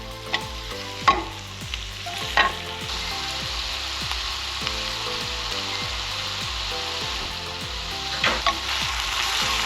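Spinach cooks in a pan on medium heat, a steady close sizzle with occasional stirring knocks and scrapes, fairly quiet and continuous throughout.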